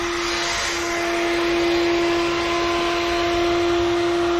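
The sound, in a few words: vacuum cleaner applying suction to aircraft engine crankcase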